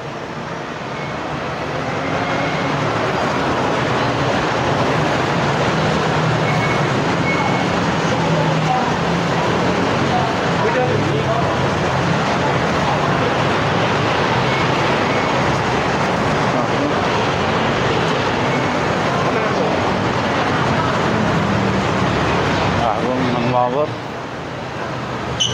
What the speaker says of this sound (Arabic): محطة بي تي اس سيلوم